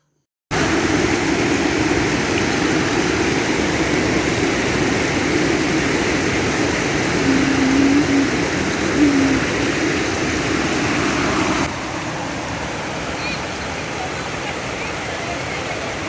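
A strong, cold river flows forcefully near a rock-camper resort, making a loud, continuous broadband rush that holds steady and drops slightly in level toward the end.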